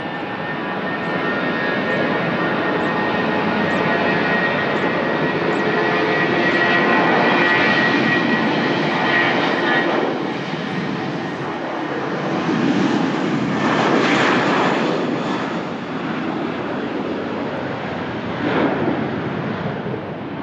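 A Smart Wings Boeing 737 Max jet at Lisbon Airport gives off a sustained, loud engine roar with some wind buffeting. The sound swells and fades in broad waves as the aircraft moves, and no one speaks.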